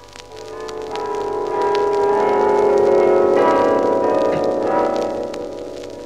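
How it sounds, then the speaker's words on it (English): Church bells ring from the towers of Amsterdam in an old Philips Radio broadcast, a dense, sustained wash of overlapping tolling that swells in the middle and fades slightly, heard alone without speech. "Merrily, the bells are ringing from the towers of good old Amsterdam."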